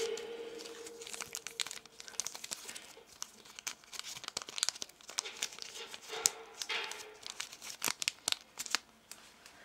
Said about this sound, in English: gently peel it off, or just peel